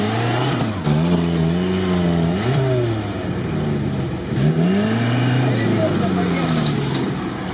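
The engine of a repaired GAZ off-road vehicle revs loudly and repeatedly, its pitch climbing and dropping in several surges as it pulls away on a jungle track, with people talking under the engine noise.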